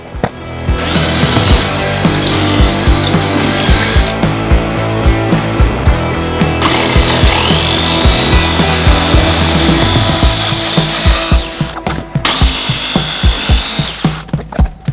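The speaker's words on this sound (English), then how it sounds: "I ended up figuring out the oscillating cutoff tool is actually probably going to work the best" An oscillating cutoff tool saws through a wooden board, a loud, close buzzing whine held for long stretches, broken by short pauses and clattering knocks near the end.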